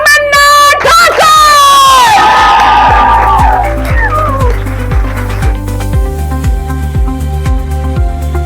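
A crowd cheers and whoops loudly at an air hostess training institute's selection announcement, with a steady rhythmic low thumping running under the noise throughout.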